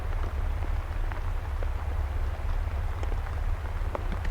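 Steady rain falls outdoors in the Wisconsin woods during a turkey hunt, a continuous even patter with scattered sharper drops nearby.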